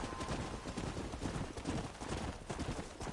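Horse ridden along a track in a John Marston video game, hooves pounding in a fast continuous gallop rhythm, close and prominent, over a faint game background.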